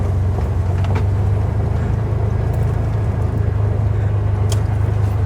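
Can-Am Defender Pro HD10 UTV driving through mud, a loud steady low engine drone heard from on board with a deep continuous rumble and no talking.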